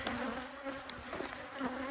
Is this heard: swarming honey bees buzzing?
yes